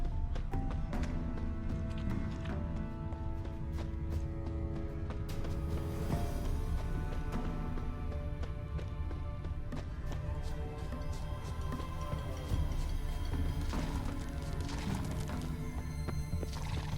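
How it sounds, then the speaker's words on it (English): A horse-drawn merchant's wagon with wide, heavy wheels travels along a road in Velen in The Witcher 3. Close, steady clip-clop of hooves runs throughout, and a horse neighs and whinnies loudly over a constant rumble. "A merchant's wagon."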